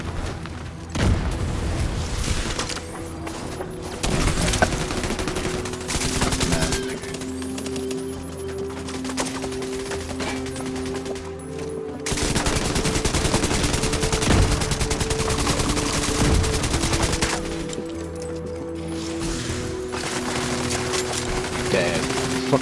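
Dense gunfire in The Division 2, loud overlapping bursts of automatic fire and booms in repeated volleys across the whole stretch, with a voice talking between them.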